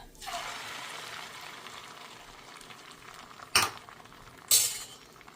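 Egg mixture is poured into a hot pan with olive oil and spread, giving a soft hiss of frying that starts abruptly and holds steady, followed by two sharp metallic clinks of a utensil against the pan.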